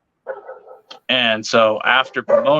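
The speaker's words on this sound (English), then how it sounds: "Apologize for the dogs." Dogs bark and yip nearby in short bursts, overlapping with someone talking close to the microphone.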